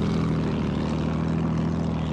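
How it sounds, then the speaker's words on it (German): Enemy propeller warplane in the video game Battlefield 1, a steady droning engine hum held at constant loudness throughout, close and alone with no talk. "Feindliches Flugzeug!"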